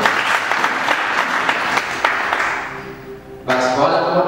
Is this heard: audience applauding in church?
yes